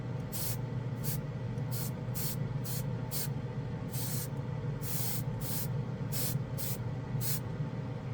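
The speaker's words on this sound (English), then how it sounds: "This airbrush really does like this paint. It goes on really even using this gun here," An airbrush sprays Vallejo Metal Color acrylic paint in about a dozen short hissing bursts of uneven length, close and fairly quiet over a steady background hum.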